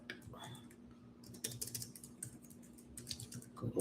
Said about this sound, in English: Here, I'll type in map.